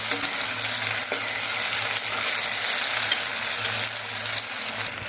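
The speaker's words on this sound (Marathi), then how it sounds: "तेल सुटेपर्यंत आपल्याला हे वाटण चांगलं परतायचं आहे" Steady, close sizzling of a ground spice paste frying in hot oil, crackling continuously without pause.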